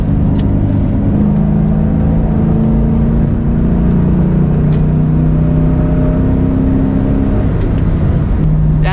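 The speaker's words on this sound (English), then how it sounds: "Fourth gear, full throttle." Mustang Cobra with a Flowmaster 40 series exhaust pulls hard in fourth gear at full throttle, a loud sustained engine drone that steadily rises in pitch, with no talk over it.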